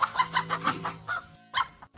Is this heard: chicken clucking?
yes